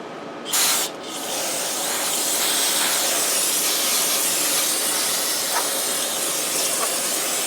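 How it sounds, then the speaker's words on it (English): Brake cleaner hisses from an aerosol can onto the rear hub of a 2007 Honda Accord, a couple of short bursts followed by a long, loud continuous spray. "I would suggest getting some brake clean."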